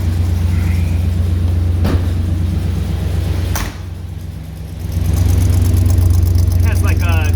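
A 1984 Chevrolet K10 Silverado with a turbo muffler idles steadily, a low, even rumble that stays quiet and close, with a brief dip in level midway and a couple of faint clicks.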